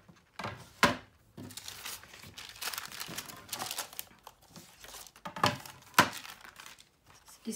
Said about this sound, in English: So I'll start with a sticking and folding first